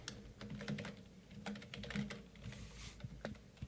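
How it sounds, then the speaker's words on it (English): Rapid typing on a loud computer keyboard, a close, uneven patter of clacking keystrokes in short bursts with no one speaking. "I'm literally typing in Twitch right now"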